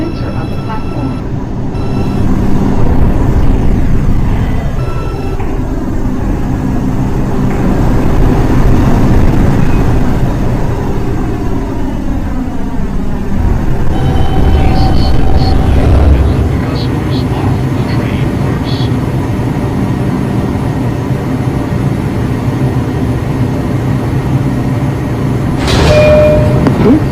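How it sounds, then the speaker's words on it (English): An R142 express subway train on the Lexington Avenue line, Wakefield-241 Street bound, arrives at the station with a loud rumbling roar and screeching wheels, slowing and fading as it stops, with station announcements heard. "Uptown Express train approaching the station."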